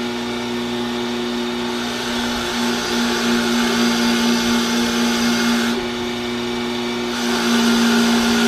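Sandblaster with moisture problems running steadily, a continuous loud whirring hiss with a strong low hum, sustained throughout with slight shifts in intensity.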